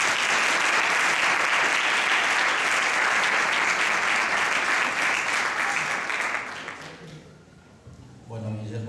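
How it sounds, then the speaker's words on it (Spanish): An audience at a panel discussion on the Malvinas and faith claps loudly and steadily for about seven seconds, then the applause fades out and a voice begins speaking. "La recibimos con un fuerte aplauso."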